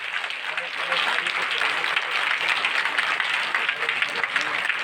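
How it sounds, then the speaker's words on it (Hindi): Audience at a women's day event honouring the district deputy commissioner in Dhanbad breaking into loud, sustained applause that swells after the first second and keeps going evenly. "एक बार जोरदार ताली बजा दिए"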